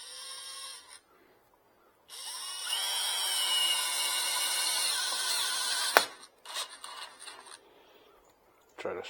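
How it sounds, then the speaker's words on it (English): A power drill whines steadily against a wet end-grain wood bowl mounted on a lathe, a sustained high-pitched grinding with brief stops and bumps near the end, quiet and close. "without putting too much pressure with the drill, because it will spin out too"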